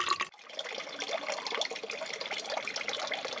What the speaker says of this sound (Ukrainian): з гір водичка тече. Наберу собі джерельної водички.